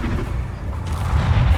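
Bombarda explosion spell going off in the Hogwarts Legacy video game, a loud, sustained rumbling boom with dense low-end roar that swells toward the end, heard without speech.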